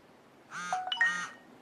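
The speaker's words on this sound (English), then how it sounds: "here we got a notification of a response" A smartphone text message alert chimes once, a short, bright two-part electronic tone heard close and moderately soft against a quiet room.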